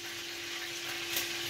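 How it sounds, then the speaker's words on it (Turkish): A chicken chop fries in hot oil in a home kitchen, a steady, faint crackling sizzle with a low hum underneath and no talk. "Burada tavuk dirzola. Şu an kızarıyor yağda."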